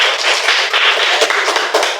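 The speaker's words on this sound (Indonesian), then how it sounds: "Baik, tepuk tangan." Pupils in an elementary school classroom clap together in a dense, continuous burst of applause, loud and close, with no talking over it.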